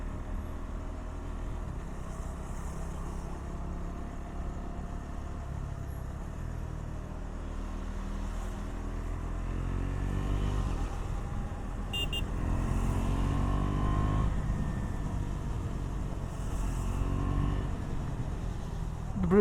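A KTM 390 Duke motorcycle engine drones steadily while riding, with rising and falling revs as it shifts gears quickly using a quick shifter, wind rumble underneath, no talking.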